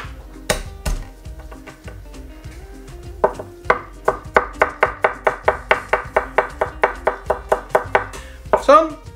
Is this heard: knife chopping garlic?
yes